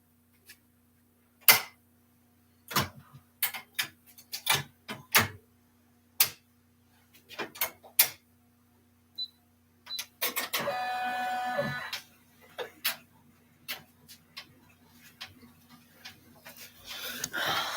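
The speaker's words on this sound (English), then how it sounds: "And now that'll do the satin stitch, and then I'll probably change it out for the decorative stitch." An embroidery machine sews a satin stitch, with scattered sharp mechanical clicks and ticks before a brief, dense run of rapid stitching, followed by more intermittent clatter.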